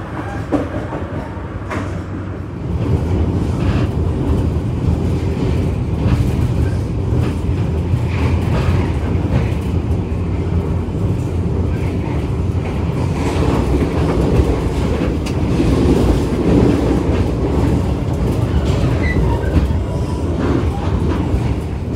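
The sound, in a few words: KA Arjuno executive train running on rails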